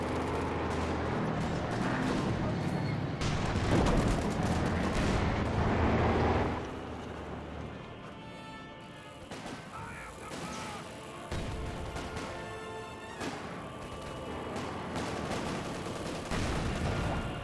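Tank cannons and anti-tank guns fire in a Company of Heroes 2 battle between Panzer IVs and a Cromwell, with dense rumbling blasts and crackling gunfire early, then scattered shots and explosions amid ongoing battlefield noise.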